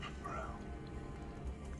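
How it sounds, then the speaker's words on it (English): A cat meows faintly from a short distance, a single soft cry early on against a low, steady background hum. "I think it's a kitty."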